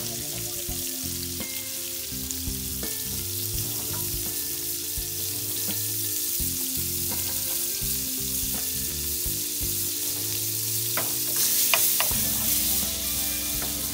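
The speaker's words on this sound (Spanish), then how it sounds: "Aquí tenemos ya un sartén ya caliente, vamos a poner la mantequilla que se derrita la mitad." Butter melting in a hot frying pan, a steady soft sizzle and crackle continuing throughout, close and moderately quiet, with a few brief clinks.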